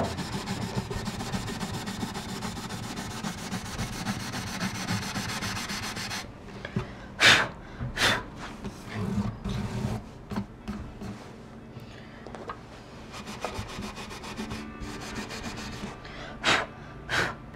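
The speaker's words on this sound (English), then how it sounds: "It'll take any grime off the fretboard and it'll polish your frets." Steel wool, about 1500-grit equivalent, buffs an acoustic guitar's fretboard and frets with close, continuous rapid rubbing that gives way to short scrubbing strokes separated by pauses.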